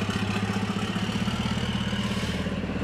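A MAN racing truck engine tuned to about 1100 horsepower runs at a steady idle, a continuous low, pulsing throb heard close with no talk over it.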